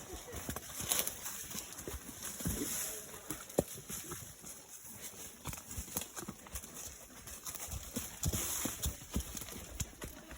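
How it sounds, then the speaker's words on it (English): Horse hooves clop steadily along a scrubby trail, with rustling brush and faint birdsong in the background; a voice speaks briefly. "Whoa, gentle horse."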